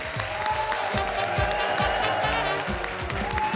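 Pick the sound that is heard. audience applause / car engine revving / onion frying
audience applause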